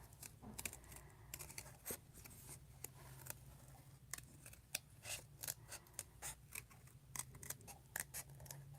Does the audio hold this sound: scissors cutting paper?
yes